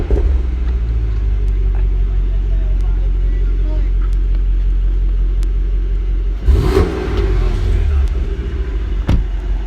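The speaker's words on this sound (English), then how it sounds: "Y'all hear them snap crackle pops back there?" Mercedes-AMG GT 63 S on the road, a deep, loud exhaust rumble with a rising rev and a few sharp crackling pops from the back, while people talk inside the car.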